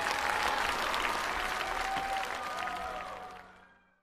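A studio audience at a televised singing and dance competition stage applauds in a dense burst of clapping that holds steady, then tapers and fades out near the end.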